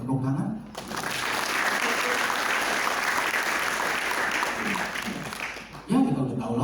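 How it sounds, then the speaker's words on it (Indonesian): Audience applause fills a stand-up comedy show, a dense, sustained clapping that swells and holds for several seconds, with a voice briefly audible just before it starts and again as it fades. "Boleh minta tepuk tangan?"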